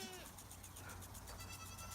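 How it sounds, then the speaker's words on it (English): Faint baby goat bleats rise over a steady wash of farm background noise, quiet and somewhat distant. "Baby goats."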